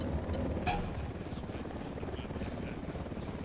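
Helicopter in the Ghost Recon Wildlands video game, a steady pulsing rotor chop that holds at a moderate level throughout, with a brief sharper hit early on.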